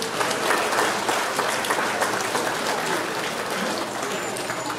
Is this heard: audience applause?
yes